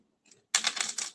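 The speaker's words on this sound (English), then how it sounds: "I'm gonna trim it because I think this is a little bit bigger." Paper being trimmed for a handmade greeting card, heard as a faint tap and then a close, brisk, slightly crackling cut lasting about half a second.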